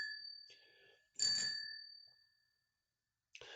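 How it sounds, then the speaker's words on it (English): A small bell is rung once, a bright, clear ding that rings out and fades slowly over about two seconds, alone and close, with the start of a second ring at the end. "I'm just going to keep ringing this bell every time it goes up again."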